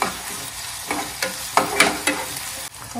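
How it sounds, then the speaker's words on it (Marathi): Green chillies and onions frying in oil, with a loud close sizzle broken by several sharp stirring scrapes, and no talk. "मिरची घालूया, म्हणजे मिरची कांद्याबरोबर चांगली भाजलेली।"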